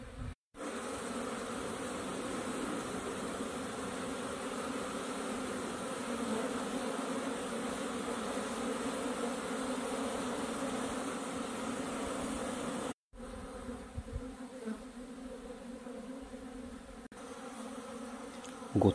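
Honeybees pour out of hives at an apiary on an April spring day, making a dense, steady buzzing swarm close by that fills the air continuously, with a brief break partway through before the humming resumes.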